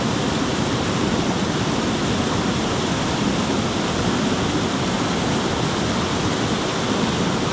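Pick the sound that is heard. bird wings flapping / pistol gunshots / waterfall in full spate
waterfall in full spate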